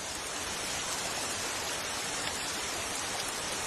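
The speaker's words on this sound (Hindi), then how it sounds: "बारिश हो रही है।" Steady rain pours down in a Doraemon cartoon scene, a constant even hiss of falling water that fills the whole clip with no voices over it.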